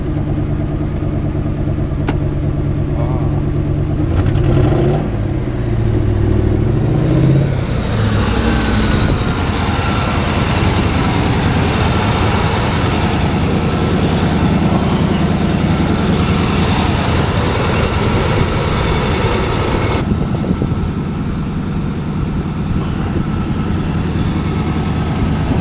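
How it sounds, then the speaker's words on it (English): A 1981 Chevy Scottsdale K10 pickup truck engine idling steadily, then revving up to a louder sustained roar before settling back, heard close and continuous with no talk. "Rev it up a little bit, see if it goes."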